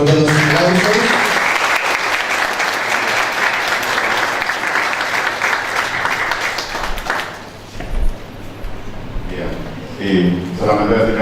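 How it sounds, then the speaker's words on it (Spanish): An audience at an academic lecture applauds loudly and steadily, then the clapping thins out while a voice talks over the tail end. "Fuerte los aplausos."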